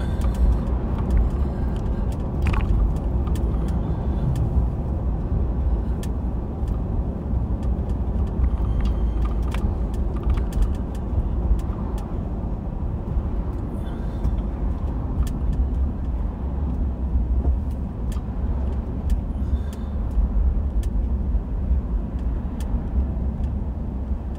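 Inside a patrol car on a bumpy road, a steady low engine and road rumble carries on with occasional small knocks and rattles. No one talks.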